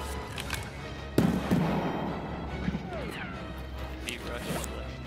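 Frag grenade exploding in Escape from Tarkov, one sharp loud blast followed by crackling debris and a decaying rumble, with scattered later thuds and people talking around it.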